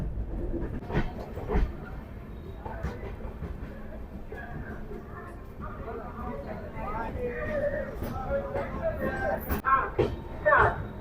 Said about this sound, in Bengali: আমাদের শিয়ালদা বেনারস অমৃত ভারত এক্সপ্রেস তার 2য় নম্বর হল্ট আসানসোল জংশনে ঢুকলো